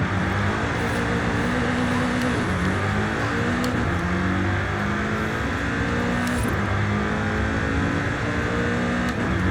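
A stock 2020 BMW M8 Competition Coupe with all-wheel drive accelerates hard off the line, its engine roaring loudly and steadily with climbing pitch, heard from close by without talk.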